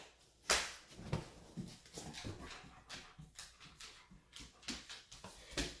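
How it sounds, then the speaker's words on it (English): A little German Shepherd puppy gives a string of soft whimpers and whines at close range, with one sharper yelp near the start and quieter, irregular cries after it. "This is our little German Shepherd puppy"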